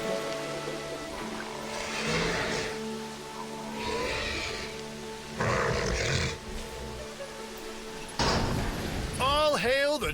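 Several deep, growling dinosaur roars from a Draco Rex in the video game Jurassic World Evolution come in loud separate bursts. A harsh, rising screech closes the sequence and a low background hum runs throughout.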